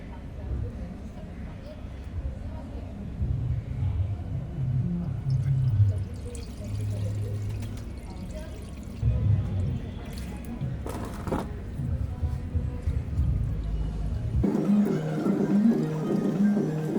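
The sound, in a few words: diesel poured over a car throttle body to wash it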